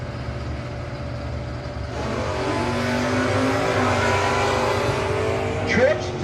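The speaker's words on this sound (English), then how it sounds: "Great side-by-side race, and it's going to be the win light going to Gene Pelosi" Two drag race cars launch and accelerate side by side at a no-box 660 shootout, engines building from a rumble into a loud sustained roar that swells and fades near the end, with faint voices under the engines.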